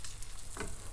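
Scallops briefly sautéing in a pan with parsley butter, a faint soft sizzle with light stirring.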